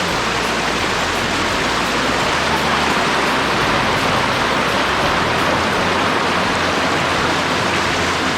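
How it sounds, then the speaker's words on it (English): A river pours over a small waterfall, a loud, continuous broadband rush of falling water close by, unbroken throughout with no speech. "It's a river flowing from that side and then it's gradually having this small waterfall sort of thing."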